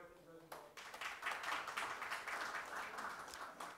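A crowd applauds at a Korean political event as invited National Assembly members are introduced one by one, with steady, dense clapping starting abruptly and continuing throughout, fairly near.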